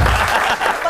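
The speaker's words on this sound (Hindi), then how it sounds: "स्पेशल तालियां बनती हैं ये तो।" A burst of studio audience applause on a weekend talk show, loud and close, many hands clapping densely for just under a second.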